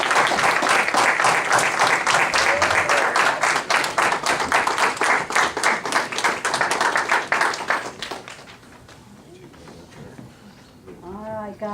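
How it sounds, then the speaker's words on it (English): A room of people at a city board meeting gives a hearty round of applause, dense and loud clapping that carries for several seconds before fading, with a voice speaking briefly at the end. "Big hand of applause for these"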